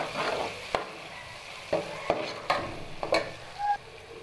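Green garlic being stirred into a frying mixture for baingan bharta, with a steady sizzle broken by repeated spoon scrapes and knocks against the pan, close and moderately loud, no voices.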